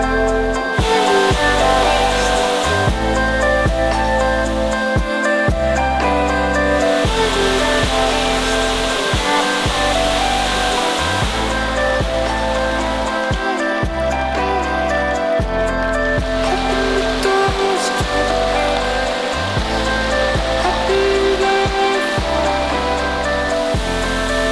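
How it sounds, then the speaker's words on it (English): Kite Kite Falls, a waterfall in New Zealand, roars as a steady, loud broadband rush of falling water that holds constant throughout, with no voices over it. "This, guys, is a very nice waterfall. Kite Kite Falls is the name of this one"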